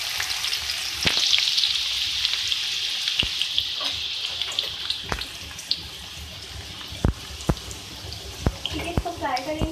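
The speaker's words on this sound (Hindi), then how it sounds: "सबसे पहले मैंने ऑयल लिया है, इसमें मैं चॉप प्याज ऐड करूँगी" Two medium chopped onions fry in hot oil in a karahi, giving a loud, steady sizzle close up, with scattered sharp clicks and stirring knocks throughout and no speaking.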